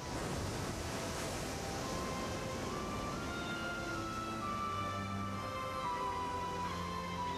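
Atlantic Ocean waves roar along the Galician shore, a continuous low wash of surf that stays steady and moderately distant, with no voices and faint tonal hum beneath.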